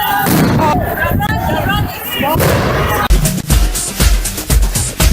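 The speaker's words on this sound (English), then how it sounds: "we are being attacked with concussion grenades by police" Police concussion grenades go off at a protest, heavy booming blasts and sharp bangs ringing out amid a loud crowd, with people shouting and talking throughout.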